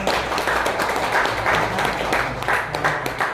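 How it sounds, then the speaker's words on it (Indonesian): Audience applause at a 15th anniversary celebration for a church men's commission after candles are lit; a short burst of lively clapping from a moderate crowd, with a few voices in the background. "Tepuk tangan yang meriah."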